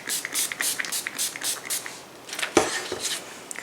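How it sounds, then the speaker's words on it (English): Short bursts of water spraying onto stencil paper laid over ceramic tiles, a quick series of close hissing spritzes with brief pauses between them. "And let's give it a spray."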